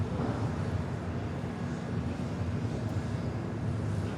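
A Boeing 787 Dreamliner airliner at LAX hums in a continuous, even jet-engine drone, moderately distant and unbroken for the few seconds heard.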